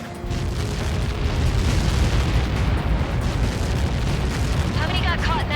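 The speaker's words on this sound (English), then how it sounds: "How many got caught in that explosion?" A Helios missile impact explodes in the Ace Combat 7 video game, a sustained heavy rumbling blast filling the whole stretch, with a radio voice breaking in near the end.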